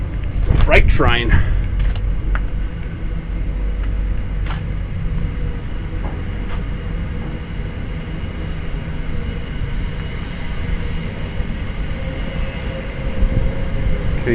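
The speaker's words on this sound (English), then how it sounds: "Freight train." A freight train rumbles past close by near the Zig Zag Railway at Lithgow, with a loud low roar and clanking at the start that settles into a steady heavy rolling drone. Voices are briefly audible.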